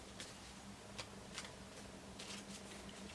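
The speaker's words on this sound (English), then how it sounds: "Now I'm going to shuffle these again" Playing cards being shuffled by hand, quiet soft riffling bursts in a few short runs over a hissy room background.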